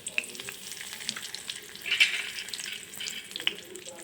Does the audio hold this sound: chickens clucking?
no